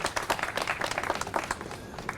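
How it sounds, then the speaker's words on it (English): Outdoor crowd at the Huntington Beach Rose Garden ceremony applauding after the national anthem, a steady patter of moderate clapping over about two seconds. "How about one more round of applause?"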